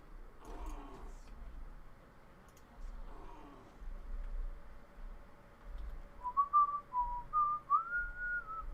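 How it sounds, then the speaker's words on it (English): A person whistles a wandering tune while playing a Ghosts game mode, the melody rising and falling in short phrases over quiet background clicks and game noise, fairly close and clear. "What song am I whistling?"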